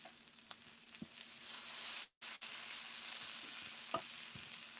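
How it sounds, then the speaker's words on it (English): Vegan taco filling for homemade Chipotle-style tacos sizzles in a pan, a steady soft frying hiss with a louder burst of sizzle midway and a few light utensil taps. "Still got some sizzle, which is great."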